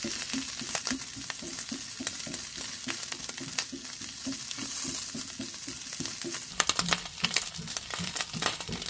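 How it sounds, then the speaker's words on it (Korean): Finely chopped Spam is stir-fried in leftover oil in a pan, giving a steady close sizzle broken by regular scraping stirs, with sharper crackling pops bursting out toward the end. "남은 기름은 버려주시고 잘게 자른 스팸을 볶아줍니다."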